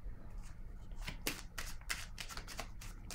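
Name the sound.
tarot card being placed down on a table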